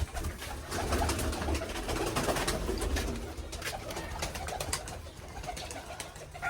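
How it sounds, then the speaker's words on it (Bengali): Pigeons let out of their loft coo continuously close by, a dense low murmur of many birds with fluttering and rustling. "পায়রাগুলো খুলে দিলাম, সব বেরিয়ে যাবে এবার"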